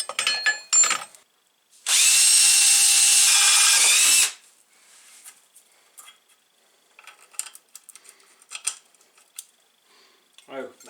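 Power drill boring a hole for a bolt on a pit bike brake, a loud steady whine of about two and a half seconds with a small bit, alone, followed by quiet tool handling.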